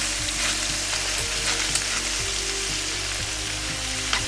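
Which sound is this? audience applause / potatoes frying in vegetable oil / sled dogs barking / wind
potatoes frying in vegetable oil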